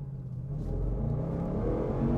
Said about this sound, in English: this week I'm driving this with a supercharged V8